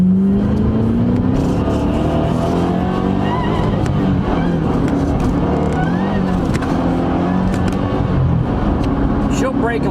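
A 5.4-litre V8 engine in a 2008 Ford Shelby GT500 with manual gearbox revs hard and climbs through the gears to 100 mph, loud and continuous from inside the car, with someone talking over it.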